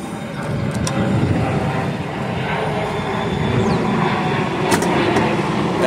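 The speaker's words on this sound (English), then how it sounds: "Planes are relentless." A plane passes overhead near an airport, heard from a car parked nearby: a loud, steady jet roar that swells slightly and holds for the whole stretch, with no talking.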